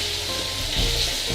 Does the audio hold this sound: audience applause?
no